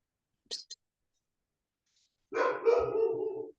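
A pet dog at home barks during an online class: two quick faint yips, a pause, then a longer, louder bark-like burst that may overlap a voice.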